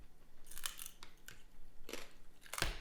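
Someone bites into crispy pork belly kare-kare, producing several sharp, close crunches spaced irregularly over a few seconds, each a quick dry crackle with quiet chewing between.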